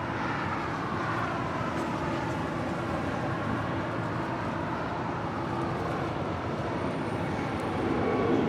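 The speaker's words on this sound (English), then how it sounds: "coming in from Guadalajara, Volaris flight 916, this A320." A Volaris Airbus A320 arriving at LAX from Guadalajara makes a sustained, fairly loud jet roar with a slowly shifting whine that swells slightly toward the end, with no voices.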